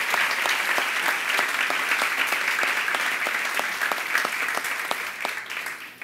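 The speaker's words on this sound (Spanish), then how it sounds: "¿por qué no se dan un aplauso?" A church congregation applauds together, steady dense clapping filling the room at even loudness throughout and tapering slightly at the end.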